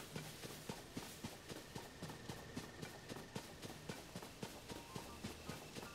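Horses galloping in The Legend of Zelda: Tears of the Kingdom, a steady rhythmic clip-clop of hoofbeats close by and fairly loud over a continuous outdoor wash, with no talk.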